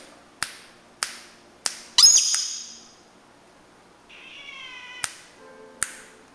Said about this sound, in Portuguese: Chama o gato. Chama o gatinho.